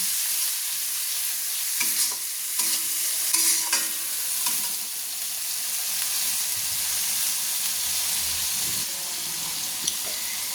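Cumin paste being stirred into meat curry in a pan, a low continuous sizzle under occasional scraping and knocking of the spoon, with quiet gaps between strokes.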